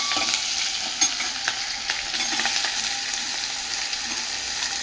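Ingredients for Maharashtrian pitla, garlic and chilli among them, are stirred in a hot frying pan, with a steady loud sizzle and a few light spatula scrapes close by, no talk.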